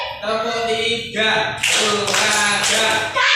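Classroom group clap routine in the "tepuk tiga" pattern, a burst of sharp claps from many hands breaking in after a pause, loud and close, with voices and children's chatter mixed around it.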